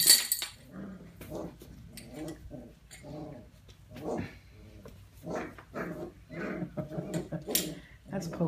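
Several puppies tug on toys and growl, yelps and small barks mixed with rustling, moderately close and fairly steady throughout; a person talks intermittently over the play.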